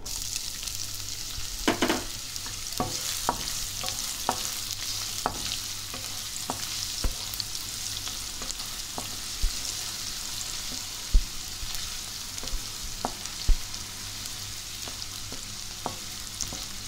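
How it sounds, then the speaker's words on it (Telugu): Thinly sliced onions frying in oil with cloves for tomato rice give a steady close sizzle, punctuated by irregular sharp spoon clicks and scrapes against the pan, with no voices. "సన్నగా కట్ చేసుకున్నటువంటి ఆనియన్స్ వేస్తున్నాను ఇప్పుడు"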